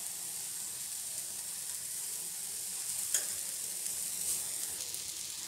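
Banana dosa frying in ghee on a pan, a steady soft sizzle and hiss throughout, with one brief sharper crackle midway, quiet and close with no talking.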